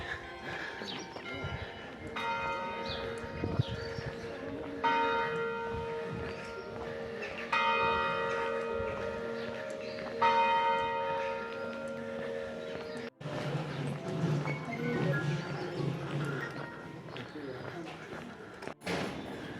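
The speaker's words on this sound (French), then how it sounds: "Et midi, les cloches se mettent à sonner." Church bells ring at noon in a steady, repeating pattern with long resonant tones in Rocamadour, France, then give way to a busier mix of voices and clatter.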